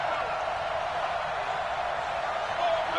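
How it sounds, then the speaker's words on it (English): Stadium crowd noise in a football video game, played on PS4 during a two-point conversion attempt, forms a dense, steady roar with a slight swell near the end, with no speech over it. "Listen to this crowd now."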